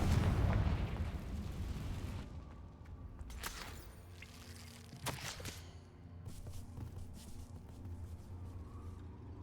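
Fiery Confringo blast spell in the Hogwarts Legacy video game, a loud booming burst at the start that rumbles and decays, followed by a few sharper cracking impacts and lingering game effects.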